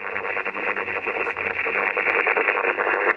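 Continuous radio static with a faint signal buried in it, a hissing, crackly band of noise throughout with no clear voice, received on an Icom IC-705 amateur transceiver with an RM Italy HLA 150 Plus linear amplifier.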